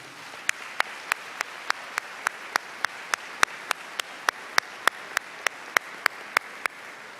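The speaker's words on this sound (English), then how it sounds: "Let's give them all a round of applause for being here" A handful of people in a high school awards ceremony clapping for academic award students: slow, evenly spaced single claps, about three per second, near and crisp over a quiet room hush.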